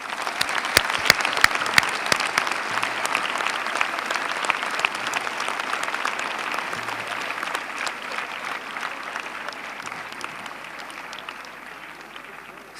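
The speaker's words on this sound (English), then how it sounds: "join me once again in giving them a loud applause" An audience at a school Founder's Day gathering claps loudly in a dense, crisp patter with individual sharp claps standing out early, slowly tapering off toward the end.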